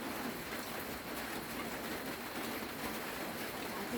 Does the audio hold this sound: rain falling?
yes